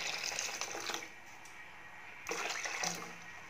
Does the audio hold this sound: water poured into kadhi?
yes